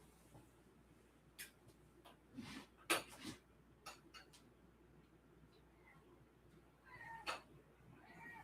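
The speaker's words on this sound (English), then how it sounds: "Oh no, my poor cat." Domestic cat meowing, upset at being shut out of a room, several faint scattered cries and scratchy sounds heard from a distance against a quiet room background.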